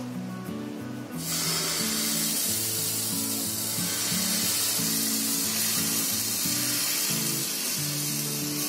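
Besan batter hits a hot oiled pan over lowered gas and breaks into a steady, bright sizzle that holds close and loud, with a soft melodic music line running underneath.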